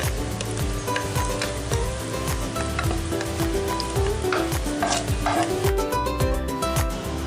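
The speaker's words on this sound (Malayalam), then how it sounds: "എണ്ണ ചൂടായി കഴിയുമ്പോൾ നമുക്ക് കായം അതിലോട്ടിട്ട് വറുത്തെടുക്കാം." Asafoetida sizzling in hot oil while being roasted for homemade sambar powder, a dense, constant crackle and spatter with occasional scraping stirs, close and continuous.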